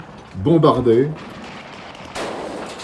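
North Vietnamese artillery shelling a small South Vietnamese town, heard as a single dull, distant boom that follows a brief stretch of someone talking.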